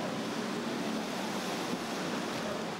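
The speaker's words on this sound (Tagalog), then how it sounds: "bumulwak na ang tubig sa kalsada galing sa binahang basement" Flood water gushes onto a street in Manila from a flooded basement near Arranque Market, a steady, loud, unbroken rush of churning water with no voices.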